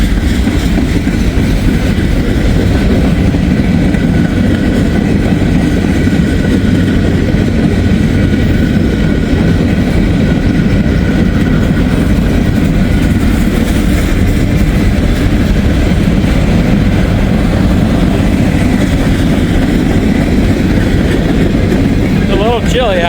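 Lake State Railway train hauled by SD78 locomotives rumbles past outdoors on a chilly day, a loud, steady low roar throughout with faint wheel clatter and some voices underneath.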